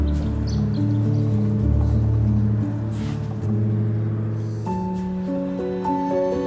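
Road traffic hums steadily below rocky cliffs near Moya, a continuous low rumble of passing vehicles with shifting engine tones, moderately distant and unbroken.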